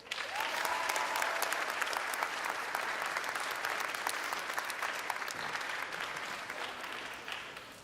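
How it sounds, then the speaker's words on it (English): Sustained applause from a graduation ceremony audience honoring families, a dense, steady clapping that fills the room for nearly eight seconds before tapering slightly at the end. "giving them a round of applause"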